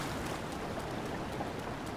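Steady hiss of rain falling in a Zelda video game, a dense even wash of drops with no gaps and nothing else standing out.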